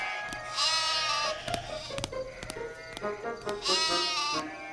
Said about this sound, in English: Hey, sheep! Go to sleep!